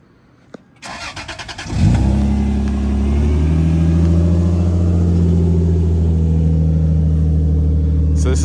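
A factory five-speed manual drift car with a limited-slip differential cranks briefly, catches, and settles into a loud, steady idle close by.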